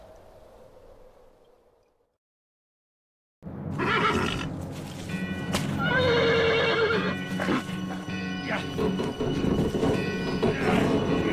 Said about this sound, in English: A strong horse will pull them free.